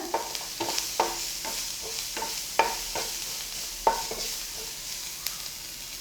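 Onions for tomato egg podimas sauté in a pan, a steady frying hiss broken by repeated sharp scrapes and knocks of a spatula stirring.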